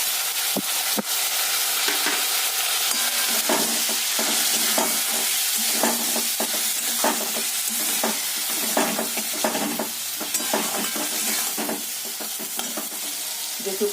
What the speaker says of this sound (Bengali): চালগুলো দিয়ে একটু ভালো করে ভেজে নেব